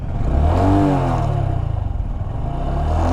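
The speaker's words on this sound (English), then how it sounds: "That's kind of what the engine sounds like. A little bit growly." A 2019 Honda Grom motorcycle engine is revved with the throttle, rising into a loud, close, growly rev and then settling back to a steady, throbbing idle, with no talking.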